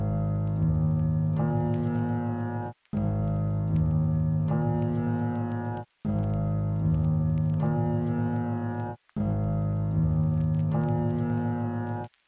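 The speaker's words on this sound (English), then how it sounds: "I exported this piano with halftime on it and I chopped it up to sound like this" A chopped, half-time piano sample in a trap production style loops four times, each phrase sustained and stopping abruptly before the next begins, played alone.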